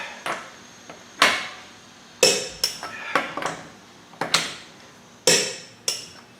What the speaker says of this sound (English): When you are using a breaker bar or any kind of torque implement, always go down with gravity, and you can hear that.